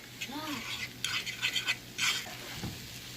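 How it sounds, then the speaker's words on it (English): An egg mixture with onions and shrimp is stirred and scrambled in a pan, giving short scraping and clinking bursts of a utensil against metal, with a brief voice near the start. "So now you just scramble the egg up."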